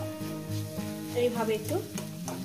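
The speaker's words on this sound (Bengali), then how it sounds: "এইভাবে একটু খুন্তির সাহায্যে কুমড়োটাকে এভাবে একটু ম্যাশ মতন করে দেবো।" A spatula mashes fried pumpkin in a pan, making soft scraping and stirring sounds over a low sizzle. A person speaks briefly over the steady cooking noise.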